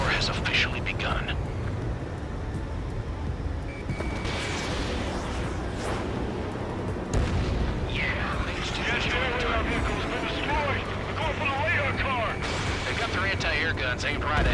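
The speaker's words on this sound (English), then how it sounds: "Anti-air guns aimed right at us." Ace Combat 7 anti-aircraft guns pound continuously around a jet in flight, dense rumbling bursts and explosions blending with engine roar while radio voices talk over the din.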